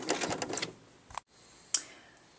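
A sewing machine stitches a skirt waistband casing in a quick rapid burst of whirring, then stops with a few short clicks and a final clack.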